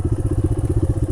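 Motorcycle riding over a loose rocky trail in Benguet, engine chugging in a fast, even pulse of low thumps with light clatter, close and steady, no talking.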